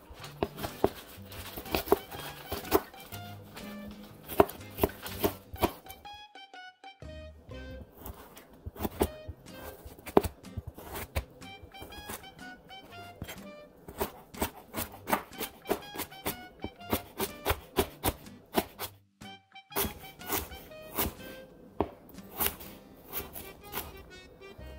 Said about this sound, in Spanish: Ahora voy a cortar los vegetales en cuadros pequeños